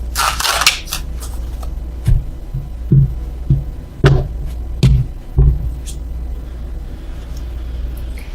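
Tarot cards being shuffled close by in several short, uneven bursts of papery riffling and tapping, alone without talk.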